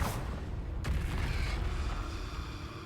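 A Confringo spell explodes in the Hogwarts Legacy video game, giving a loud, rumbling blast with a sharp crack near the start and a sustained booming roar that carries through the whole moment.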